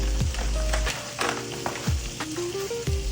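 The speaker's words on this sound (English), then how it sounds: "I have a little bit of oil, butter, and I'll put maybe about a tablespoon of flour to kind of start the roux." Flour stirred into hot oil and butter to start a roux for Swedish meatballs, giving a steady close sizzle with a few scraping stir strokes and soft utensil taps.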